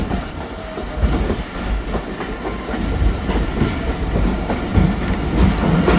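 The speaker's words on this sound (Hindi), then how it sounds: "टनल भी आ चुकी है जनाब और काफ़ी स्लो स्पीड से ट्रेन पास हो रही है।" Khyber Mail train crawling slowly through a tunnel, a steady enclosed rumble with clickety-clack wheel beats and irregular knocks throughout, close and loud with no talk.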